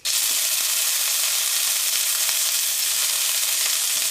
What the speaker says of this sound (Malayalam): ഉണക്കമുളക് ഞാൻ കഴുകിയിട്ടിട്ടുണ്ടായിരുന്നു, അതാണ് സൗണ്ട് ഉണ്ടാകുന്നത്.